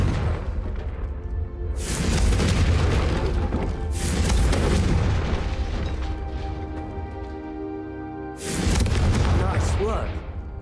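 Confringo fire spell explosions in the Hogwarts Legacy video game: three heavy, loud booms burst out amid a continuous roaring rumble, with voices speaking in between.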